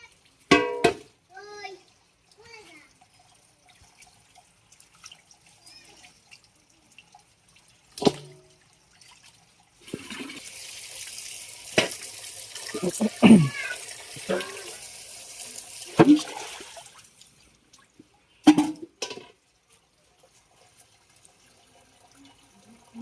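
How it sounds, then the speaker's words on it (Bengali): Cut pangas fish being washed under running water from a tap in a sink, a steady splashing stretch in the middle framed by scattered clinks, drips and handling noises. "আমাদের মাছ কুটা হয়ে গেছে, এখন আমি ধুয়ে পরিষ্কার করে নেব।"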